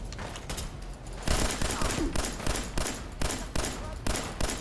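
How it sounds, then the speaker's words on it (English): Explosive ammo gunfire in Fallout 4, a loud rapid volley of repeated shots and blasts, steady bursts continuing throughout at close range. "switching to explosive ammo."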